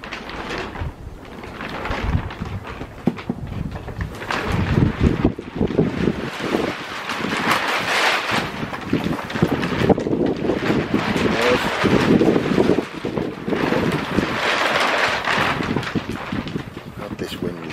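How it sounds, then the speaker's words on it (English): Strong outdoor wind buffets the microphone with loud, rumbling gusts that swell and ebb for the whole stretch, nearly drowning everything else; a voice is faintly audible beneath the roar. "God, this wind is terrible."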